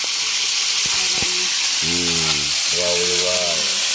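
Garlic sautéing in a pan gives a loud, steady sizzle and hiss throughout, with people talking and exclaiming over it.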